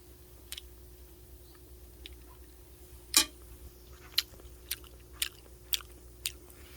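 Someone eating bulgogi makes soft, intermittent biting and chewing clicks close up against a quiet background, with a handful of short, sharp chews spaced about half a second apart and no talking.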